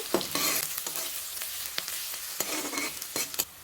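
Chopped onions with salt frying in a pan, stirred briskly, a hissing sizzle broken by scraping and knocking spatula strokes, close and fairly loud, no talking.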